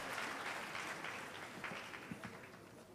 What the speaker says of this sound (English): Let's applaud also the basic school band who provided us with great music